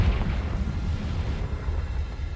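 Confringo explosion spell in Hogwarts Legacy, a thick, continuous low roar like an eruption, loud and close, lasting a couple of seconds without any speech.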